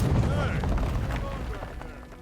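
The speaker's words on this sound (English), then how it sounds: "Throwables, grenade." A grenade blast in the video game Avowed, a heavy, rumbling explosion up close that rolls and slowly fades over a couple of seconds, with a voice talking over it.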